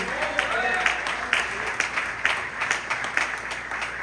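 A church congregation claps during a family worship service, scattered and moderately loud hand claps forming an uneven patter in a reverberant room.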